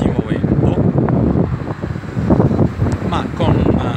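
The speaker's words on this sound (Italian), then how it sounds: "Registrazione video con un fortissimo vento" Very strong wind buffeting the microphone of a Samsung Galaxy J5 2016 phone while it records video outdoors, a loud, continuous low rumble that surges and dips throughout.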